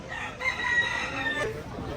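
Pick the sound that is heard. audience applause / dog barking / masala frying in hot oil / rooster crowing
rooster crowing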